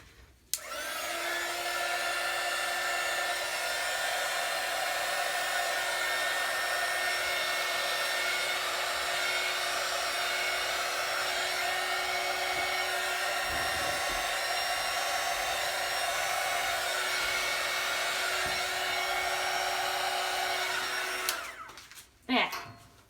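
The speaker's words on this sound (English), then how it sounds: "I will use the heat gun to try to make a very tiny bloom in the center." A heat gun blows hot air onto wet paint on a canvas for spin art, a loud steady whooshing roar that starts abruptly, holds evenly for about twenty seconds, then cuts off.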